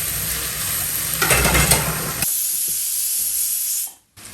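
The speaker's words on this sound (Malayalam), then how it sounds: "ഇതിപ്പോൾ നല്ലോണം വഴറ്റി നല്ല ബ്രൗൺ കളറാവണം കേട്ടോ" Chicken sautéing in a pan until brown, a steady broadband hiss and sizzle that swells louder midway, then drops to a thinner hiss before cutting out near the end.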